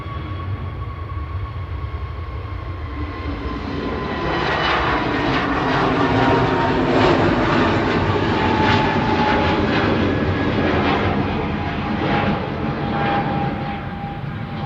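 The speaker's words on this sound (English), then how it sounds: "heading back to Amsterdam now, PHAXC A321 Neo" A KLM Airbus A321neo departs Manchester Airport for Amsterdam, its engines a loud, sustained roar that builds partway through and stays steady, with a faint whine riding over the rumble and no voices.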